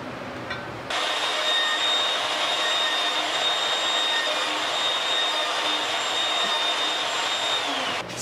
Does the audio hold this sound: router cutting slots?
yes